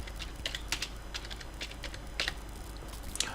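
Typing on a computer keyboard, a quick run of light clicking keystrokes at irregular spacing, close and fairly quiet over faint background hum, with no talk.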